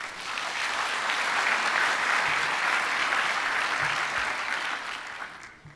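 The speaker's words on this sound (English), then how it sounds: "I think he deserves a round of applause" Conference hall audience at an opening ceremony gives a full, sustained round of applause, dense and steady for several seconds before tapering off at the end.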